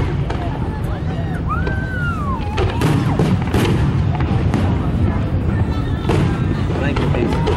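Fourth of July fireworks go off in a rapid barrage of loud booms and crackling bursts, with a whistling rocket rising early, while people talk and react nearby.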